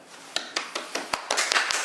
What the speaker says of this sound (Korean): 여기 박수 소리 들리고 관객들이 많아요